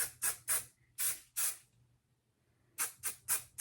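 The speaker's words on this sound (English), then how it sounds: "let's give it a good spray" Short close hissing bursts of an aerosol spray, several quick puffs, a pause, then four more rapid sprays.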